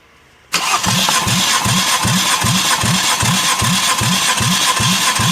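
Toyota Corolla 3ZZ-FE engine cranking on the starter during a compression test, a sudden start after quiet followed by an even, rapid chug of compression strokes, loud and close, with no talking.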